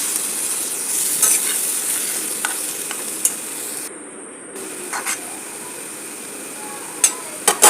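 Roselle leaves and jackfruit seeds fry in a pan while being stirred, a steady close-up sizzle broken by several sharp scraping clicks of the spoon, louder toward the end.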